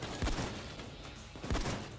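Two heavy booming shots a little over a second apart, each a sharp low thump with a long fading tail, from sniper rifle fire during a video game heist, with no talk over them.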